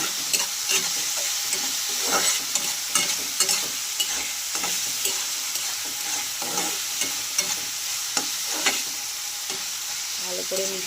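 Ginger garlic paste fries in a pan for an egg tarka, giving a continuous close sizzle. Repeated scraping stirs of a spatula break through it at an uneven rhythm.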